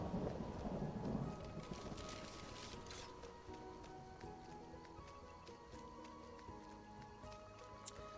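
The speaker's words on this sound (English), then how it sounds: "the rain's letting up though" Rain and thunder weather in the video game Skyrim: a steady wash of rainfall with a low rumbling swell of thunder near the start, easing into continuous patter with scattered sharp drops, fairly loud and without voices.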